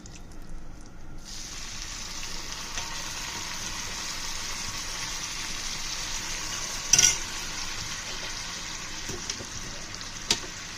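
Sizzling tempering in a pan as dal is poured in, a sudden rush then steady frying hiss that carries on evenly, with a clink near the middle and another toward the end.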